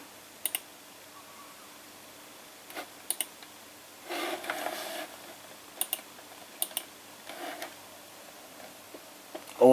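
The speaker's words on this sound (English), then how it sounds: "Or the actual keyboard to type with." Keystrokes on a computer keyboard tap out in short scattered bursts, quiet and close, with pauses between the clusters of clicks.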